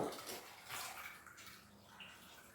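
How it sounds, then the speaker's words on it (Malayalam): Water is poured into a small cooker, a soft, steady, faint splashing and trickling that runs the whole time with no voices. "കുറച്ച് വെള്ളം ഒഴിക്കാം."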